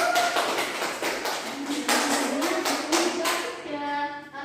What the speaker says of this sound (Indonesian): beri aplaus untuk Mbak Bin